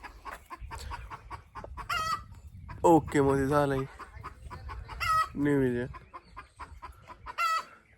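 Hens cluck on a farm, with a few short bursts of clucking and calling that rise over someone talking throughout, fairly close by.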